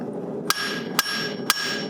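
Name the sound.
hammer striking steel on anvil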